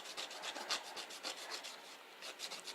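Fresh nutmeg scraped across a small kitchen grater makes quiet, close, rhythmic rasping strokes, about a dozen quick rubs in steady succession with no talking.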